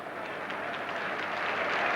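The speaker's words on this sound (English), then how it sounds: "Richards applauded for bringing the ball back." Steady, fairly faint applause and clapping from a crowd at a 1979 Liverpool versus Wolverhampton Wanderers football match, rising slightly in strength as it continues.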